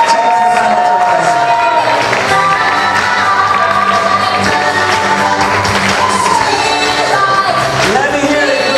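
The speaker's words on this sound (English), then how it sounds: "Let's give a nice round of applause to Laura." Cheering and applause from an audience at a live variety show, loud and constant, with whoops and shouts layered over a continuous roar of crowd noise.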